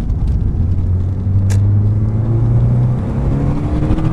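Porsche 968 CS engine pulling hard under acceleration, a loud steady low rumble with rising tone and a brief high whine midway, close and alone with no talk.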